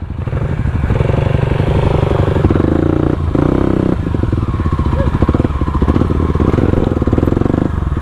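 A Kawasaki KLX 250 supermoto motorcycle engine climbs uphill on a mountain road, heard close and loud with a steady pulsing drone and rising revs. The engine runs continuously, with clattering from the machine.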